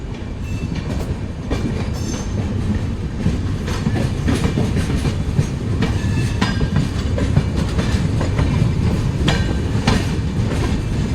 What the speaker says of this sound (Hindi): पैरेलल रन हो रहा है कामाख्या रांची के साथ।